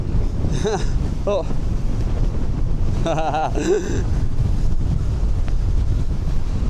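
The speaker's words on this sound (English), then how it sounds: "it's pretty breezy up here" Steady wind buffets the microphone on a Lake District mountain summit, a continuous low roar close and loud, with a short exclamation and a few brief voice sounds breaking through.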